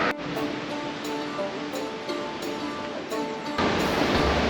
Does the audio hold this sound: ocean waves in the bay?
yes